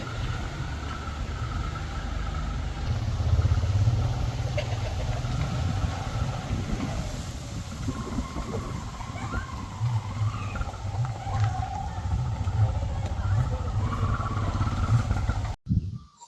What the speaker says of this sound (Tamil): இப்போ ஆட்டோ வந்து கொண்டு இருக்குது